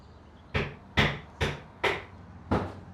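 Five evenly spaced hammer blows ring out clearly, each a sharp knock with a short decay, with no talking.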